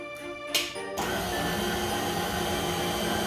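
An electric hand mixer starts up and runs steadily at medium-low speed, beating eggs one at a time into Christmas cookie dough, a continuous close whirring hum after a brief clatter at the start.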